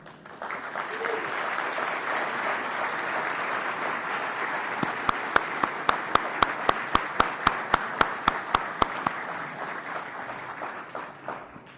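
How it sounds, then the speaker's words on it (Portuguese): A conference audience at the FISL17 opening bursts into sustained applause, a dense wash of clapping with a run of sharp, evenly spaced rhythmic claps joining midway before it eases off. "uma salva de palmas."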